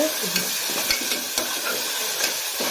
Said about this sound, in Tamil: நம்ம பார்த்து இஞ்சி பூண்டு போடணும். அதுவும் நல்லா ப்ரௌன் ஷேடில் வரணும்னால